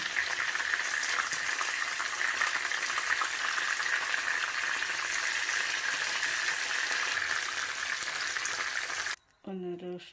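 Chicken frying in hot oil gives a loud, steady, close sizzle that runs unbroken for several seconds, then cuts off as a short voice is heard at the end.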